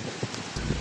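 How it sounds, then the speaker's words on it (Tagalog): Typhoon Opong in Romblon drives a dense roar of wind and rain, a gusty hiss that swells and fades over a moment with no voices. "Ramdam ang bagsik ng hangin at ulan."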